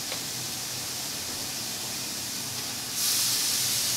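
Sausage sizzles in a preheated pan over medium heat on a gas stove, a steady close hiss with no voices that rises and brightens near the end.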